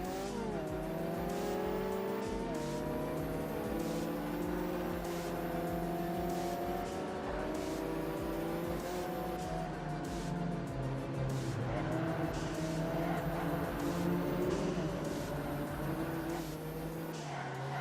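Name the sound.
race car engines in Ford Racing 3 video game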